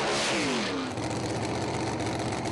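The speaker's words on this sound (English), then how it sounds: "Carl Winneveen in the heat treatment lane, big long burnout" A drag racing car at a national drag racing event doing a long burnout in the burnout lane, a loud continuous roar of engine and spinning tyres that barely lets up from start to finish.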